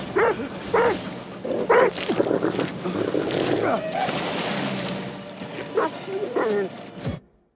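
A dog barks repeatedly in the horror video game The Devil in Me, several loud sharp barks spaced across a few seconds over tense game ambience and rumbling noise.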